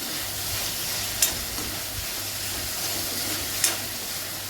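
Bay leaves, cumin and garlic cloves sautéing in a pan over a high flame, a steady soft sizzle and hiss with faint stirring scrapes and a few sharp clicks.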